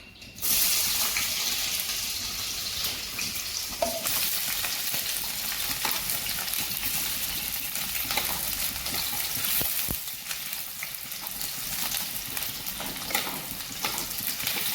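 Onions sizzling in a pan of hot oil with dried red chillies for an egg and potato curry, a steady, loud frying hiss running continuously with faint stirring clatter.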